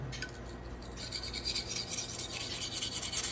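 A Victorinox paring knife drawn across the fine-grit side of an oiled sharpening stone, a short raspy scraping that grows louder after the first second and holds steady and close, with no talk.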